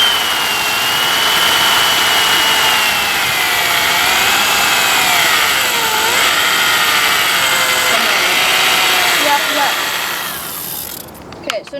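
A power drill bores pilot holes into a wooden box, a loud close motor whine that rises and dips in pitch for about ten seconds before cutting off, with a few rattling clicks at the end.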